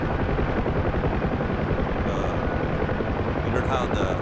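A helicopter practising nose-in hover turns drones loudly and steadily with a dense rotor and engine roar, close and constant throughout, with a voice partly audible beneath it.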